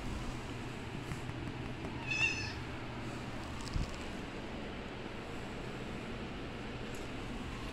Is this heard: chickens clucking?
no